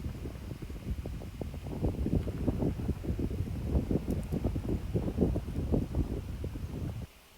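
Gusting wind on a golf course at Chassieu, a rough, rumbling buffet across the microphone that swells and eases in waves throughout, then cuts off abruptly at the end.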